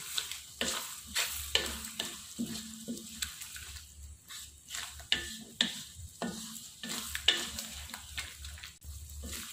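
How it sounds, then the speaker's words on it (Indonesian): Squid and jengkol sambal frying in a pan as granulated sugar is stirred in: a soft sizzle with a series of distinct spatula scrapes and taps at an irregular pace, fairly quiet and close, with no speech. "Kita aduk lagi"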